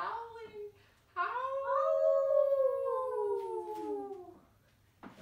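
Children's voices imitate a long, wavering howl, rising and sliding downward over about three seconds after a short opening cry, fairly quiet and set against a faint background.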